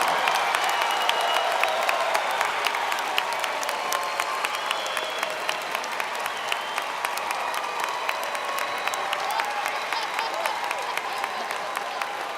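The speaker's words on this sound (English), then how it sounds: "Let's give the graduates another round of applause." An audience at a 2019 Ivy Tech Fort Wayne and Warsaw commencement ceremony applauds the graduates, with dense, steady clapping filling a large hall throughout, plus a few scattered cheers within the crowd.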